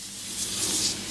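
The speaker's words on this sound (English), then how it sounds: "It's like it foams up, you spray it on" Textile foam cleaner hisses from a spray can onto car upholstery in one short, breathy burst, close and fairly quiet with no talking.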